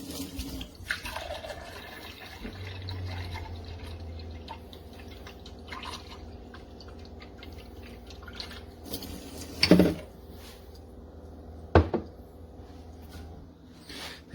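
A low steady hum of a running Frizzlife PX500-A reverse osmosis water filter, with faint trickling and occasional drips, plus a couple of sharp clunks.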